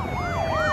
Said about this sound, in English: All the sirens and everything.